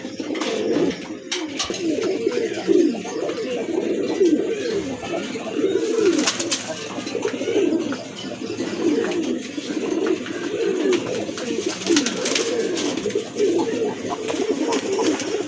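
A pair of big white Jacobin pigeons coo steadily and close by, with low rolling calls overlapping almost without pause and occasional faint rustles behind them.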